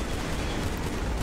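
Dense, continuous gunfire from several weapons at once in the shooter game Killzone 3, a loud, rumbling barrage with no pauses and no voices.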